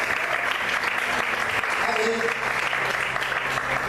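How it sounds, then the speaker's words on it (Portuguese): Church congregation applauding and praising together, a steady dense wash of clapping mixed with voices and a brief spoken response over it. "Vamos aplaudir o Senhor"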